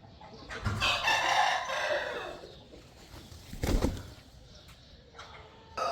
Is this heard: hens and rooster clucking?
yes